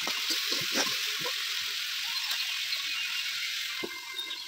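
Okra fries and sizzles in a pan on a clay stove, a steady bright hiss with occasional scraping stirs, close and continuous until it cuts off.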